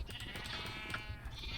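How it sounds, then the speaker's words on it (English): Several Minecraft sheep bleat close by in a steady, overlapping chorus of wavering cries over a busy game background, loud and continuous with no talking. "Lots of little sheep following me around now."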